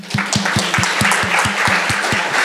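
An audience claps for posters, a steady patter of many hands at an even pace running the whole time, loud and close, with no voices over it.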